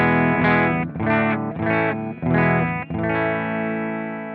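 Strandberg Salem Jazz electric guitar played clean with the Euna pedal switched off, ringing out several loud sustained chords in a steady strummed rhythm, each left to decay before the next, with no voice.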